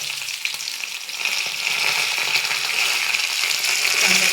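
Curry leaves and mustard seeds frying in coconut oil in a pan, a steady close sizzle and crackle that swells slightly after the first second and holds evenly, with no talk.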